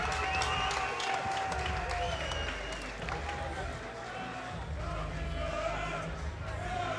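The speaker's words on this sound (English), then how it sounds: "Let's have a round of applause." A crowd at a fight league event claps and cheers after a knockout, noisy hubbub and scattered applause running under an announcer's voice and other chatter throughout.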